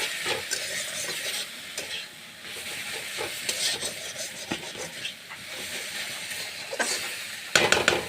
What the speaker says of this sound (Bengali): ভালোভাবে আমি সাঁতলিয়ে নেব।